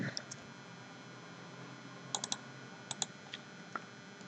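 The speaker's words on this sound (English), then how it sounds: "I'm typing here whatever I want." Soft, sparse clicks of computer keys being tapped in short bursts over a quiet room hum, with no voices.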